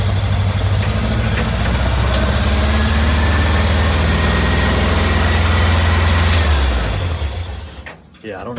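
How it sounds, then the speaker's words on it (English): A VW Beetle engine holds at a high, steady rev for several seconds without returning to idle, loud and close, then cuts off abruptly near the end. "it's revving up like that. It's not going back to idle for some reason"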